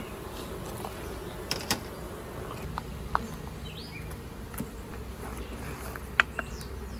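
Honey bees buzz around an open hive, a soft continuous hum in the background with scattered faint clicks and light taps from hive work.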